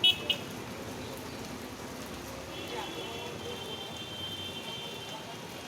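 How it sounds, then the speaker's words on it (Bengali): Steady rain pours down in an even, hissing wash, continuous and fairly close, with a brief knock at the start. "এ বৃষ্টি ছাড়বে না দা"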